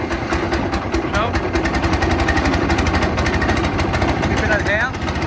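A wood chipper's small engine runs steadily on choke with a rapid, loud, rough pulsing drone throughout, while people talk over it.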